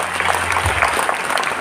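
Applause breaks out at a TIENS company business presentation, a brief burst of clapping from the gathered audience with a low hum underneath.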